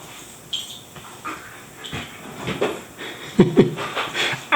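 A dog rolls around at someone's feet during an ink transfer drawing session, giving off soft panting, small whimpers and rustling scuffs, close and fairly quiet amid light handling noise.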